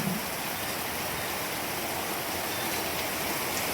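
Heavy monsoon rain over farm fields and a road with water running off, a dense, steady roar of downpour and flowing water filling the whole clip without a break.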